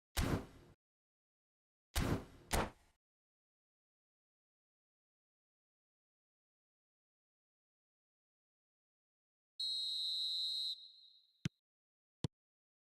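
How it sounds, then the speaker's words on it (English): A referee's whistle in the eFootball video game blows once as a loud, sustained blast lasting about a second, coming after a few broad thumps and followed by two sharp clicks. No one speaks. "Whistle goes, and we start the second half."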